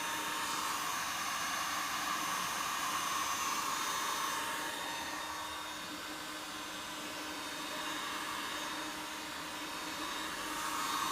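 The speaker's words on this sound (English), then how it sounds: "if we reheat them with said here heat gun" A heat gun blows steadily while warming the mastic on a motorcycle headlight during an HID headlight install, giving a continuous airy whoosh with a faint whine that holds at an even level and stays fairly quiet throughout.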